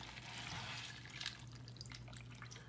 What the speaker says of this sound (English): I'm going to fill the bowl with water up until the line that's inside